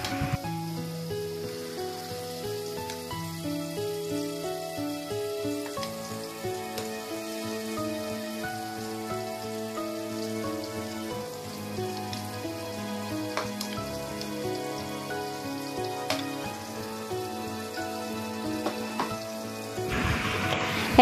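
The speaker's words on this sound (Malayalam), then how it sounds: "ഓയില് ചൂടായതിന് ശേഷം ഓരോ പീസും എണ്ണയിലേക്കിട്ട് കൊടുക്കുക." Pieces of thinda fish frying in hot oil, giving off a steady, dense crackling sizzle that runs unbroken from start to finish with no voices.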